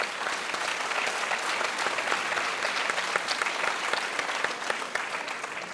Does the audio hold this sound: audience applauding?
yes